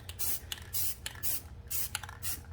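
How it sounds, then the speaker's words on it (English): Short hissing bursts of coral spray paint hit clothespins in quick light strokes, five rhythmic sprays with brief pauses between, close and fairly quiet. "these ones I'm going to spray paint with the coral"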